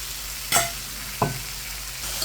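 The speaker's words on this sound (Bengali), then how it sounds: "এখন আমি মাছটা একটু উল্টে পাল্টে নেড়ে দিচ্ছি, আবারও একটু কষিয়ে নেব।" Koi fish and water lily stems are stirred in a hot pan, with a steady sizzle of frying broken by two sharp scraping strokes of the utensil, close and fairly loud, with no voices.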